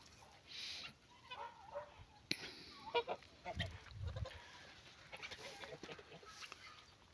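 Turkeys call in a farmyard, a mix of faint gobbling and clucking bursts scattered over several seconds, with other fowl noises around them, moderately distant and fairly quiet.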